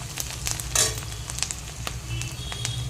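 Onions sizzle in oil in a pan for chicken curry, a soft steady frying hiss with occasional stirring scrapes and clicks, faint and close, with no talk.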